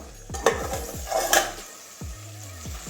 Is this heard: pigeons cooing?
no